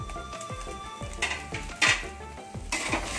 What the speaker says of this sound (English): Now it's time to add the radish and the spring onion whites